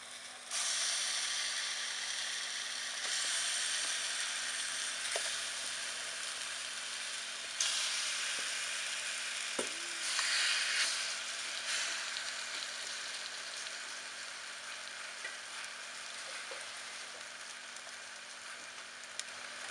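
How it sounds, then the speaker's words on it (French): Veal and onions sauté with cinnamon and spices in a tagine over the heat, giving a loud, steady sizzle and hiss that runs unbroken for the whole stretch, with an occasional faint clink and no talking. "Je vais faire revenir comme ça pour qu'ils s'imprègnent bien de goût des épices"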